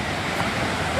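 A full, heavily flowing waterfall at Pen Kasmal in the Konkan roars in a continuous, close, loud wash that swells slightly at the end.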